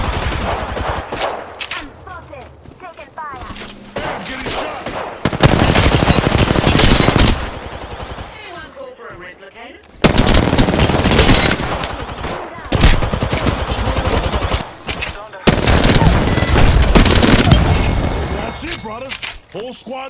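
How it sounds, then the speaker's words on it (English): Rapid automatic gunfire bursts from Apex Legends, played as Gibraltar, come in loud repeated volleys separated by brief pauses, with game voice callouts and sound effects in between. "I'm spotted. Taking fire. Hey, I'm getting shot."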